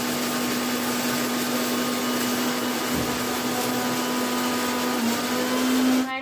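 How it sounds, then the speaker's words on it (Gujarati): A mixer grinder whirs loudly and steadily as it grinds raw mango slices into amchur powder, its motor holding a constant high hum close by for several seconds before cutting off at the end. "ફાઇનલી આપણે મિક્સર જારમાં સરસ રીતે દળી લીધું છે"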